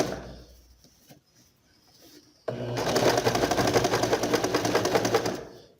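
A sewing machine stitches a reinforcing seam on a trouser crotch, first with quiet fabric handling and a few soft clicks, then running steadily in a loud, close, rapid mechanical chatter for several seconds before stopping.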